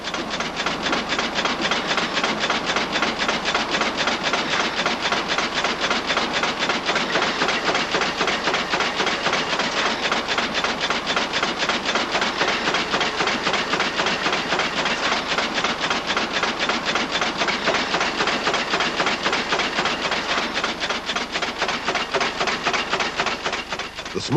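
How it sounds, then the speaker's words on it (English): A double die strip feed press blanks and draws metal components at 230 strokes per minute, producing a fast, steady, unbroken train of mechanical clacks that stays even and loud throughout. "In this double die strip feed press, running at 230 strokes per minute, the component is blanked out and drawn."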